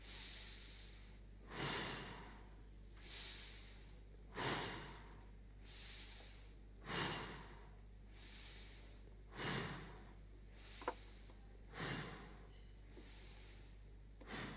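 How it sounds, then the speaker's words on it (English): Slow, steady nasal breathing during a guided exercise: about six airy inhale-exhale cycles, each a soft rushing swell through the nose, close and quiet with short pauses between them. "Now take 6 breaths through your nose."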